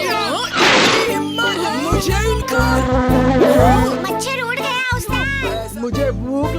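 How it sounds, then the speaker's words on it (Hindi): A cartoon mosquito's buzzing whine hovers close and loud, rising and falling under animated character voices talking over it. "जरा मेरी नाक के ऊपर से मच्छर उड़ा दो"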